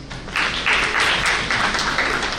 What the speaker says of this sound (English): Clapping for sir.